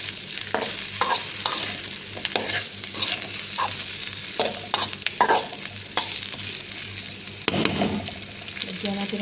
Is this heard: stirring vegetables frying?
yes